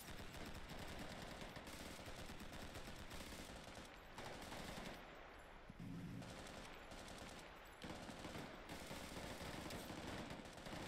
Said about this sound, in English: we're taking a lot of machine gun fire